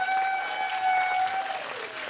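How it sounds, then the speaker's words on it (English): A game show studio audience applauds the celebrity panel on Match Game, sustained clapping at moderate level with a steady tonal whistle running over it. "Give them a round of applause,"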